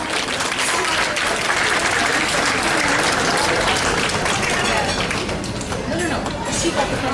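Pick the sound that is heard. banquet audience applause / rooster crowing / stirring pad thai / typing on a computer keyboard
banquet audience applause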